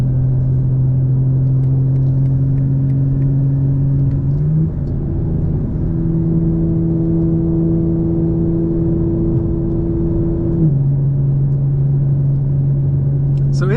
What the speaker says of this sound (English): this is what the car sounds like, 7th gear, cruising 80 miles an hour